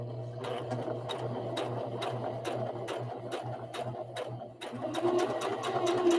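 A home sewing machine runs steadily stitching a cloth rag doll, its motor hum continuous and close, with a brief pause near the middle before the whirring resumes louder.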